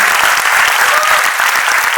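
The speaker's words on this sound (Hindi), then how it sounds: "जोरदार तालियां अंश के लिए" Loud, dense applause from a live crowd at a charity musical show in India, honoring a saxophone and flute player; continuous, close clapping filling the whole stretch.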